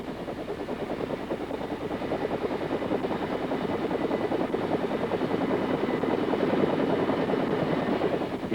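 An AH-1G Cobra gunship helicopter flies overhead, its rotor beating in a steady, loud, rapid throb over a constant engine drone. The sound holds even and unbroken throughout.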